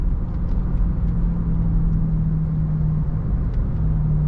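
A 2005 Mercedes S500 W220 with a 5-liter V8 under way, heard from inside the cabin as a steady, even low engine and road drone with no clear rise in revs.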